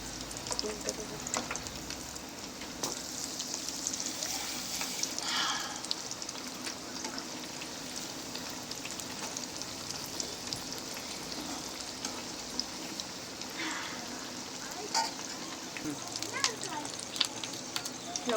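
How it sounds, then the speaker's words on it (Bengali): Pumpkin leaf fritters fry in a pan of oil with a soft, steady crackling sizzle, fairly quiet, with occasional louder bursts and a voice speaking faintly at times. "সবগুলো ভাজা হয়ে গেছে"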